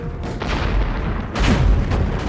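Winter War battle sounds from Finland: a quick barrage of muffled mortar and grenade booms, two heavier thumps standing out over a steady low rumble of combat noise.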